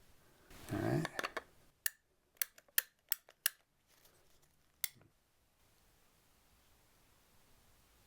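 A ratcheting PVC pipe cutter works through 2-inch PVC pipe, giving a quick series of sharp, close clicks followed by a final snap as the blade breaks through, then quiet.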